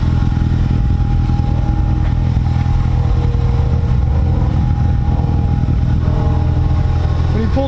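A 2015 Ford Mustang EcoBoost engine running rough, a loud, close, uneven low rumble idling steadily throughout with a slight irregular throb.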